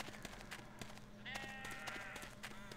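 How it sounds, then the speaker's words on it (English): A sheep bleats in the PS2 game Harry Potter and the Chamber of Secrets, one wavering cry partway through, set against a busy bed of farmyard ambience and clicks. "A bunch of sheep somewhere."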